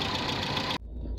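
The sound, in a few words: loud engine cooling fan of a Dacia car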